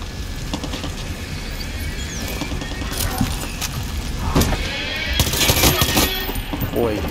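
Gunfire in the video game Far Cry 6: bursts of rapid shots and cracks over a steady dense background of engine and action noise, growing louder toward the end.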